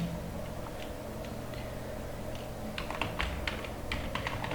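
Keys clatter softly on a computer keyboard in short bursts that grow quicker and denser toward the end, over a steady low background hum.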